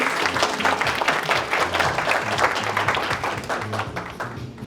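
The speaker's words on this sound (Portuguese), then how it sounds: "Uma salva de palmas para o Samir, por favor." Audience applause greeting a marketing specialist introduced at a business talk, steady dense clapping filling the room throughout, with a low hum underneath.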